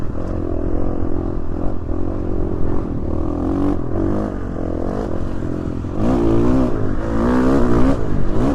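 Dirt bike engine revving and roaring steadily while riding across open Idaho desert terrain, loud and close throughout with rising and falling throttle surges and some clatter.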